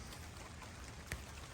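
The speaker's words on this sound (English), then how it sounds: "it is now raining." Steady rain falling outdoors beside a two-car garage, a soft continuous patter with one brief louder drip or tap near the end, no voices.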